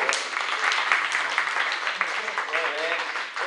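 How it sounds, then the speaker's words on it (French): An audience at a public talk claps in a steady broad patter while a voice talks over the applause. "Il faut l'applaudir."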